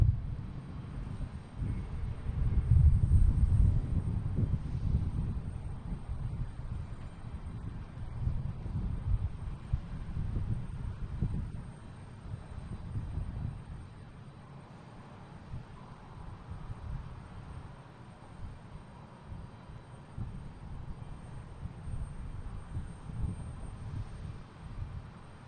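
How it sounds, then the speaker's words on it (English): A United Boeing 737 Max 8 airliner bound for San Francisco rumbles in low and steady at Boston Logan, a broad engine roar swelling early, then gradually easing under faint wind. "That's United heading to San Francisco in 737."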